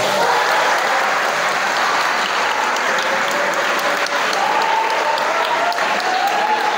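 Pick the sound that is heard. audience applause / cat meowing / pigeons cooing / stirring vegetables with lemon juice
audience applause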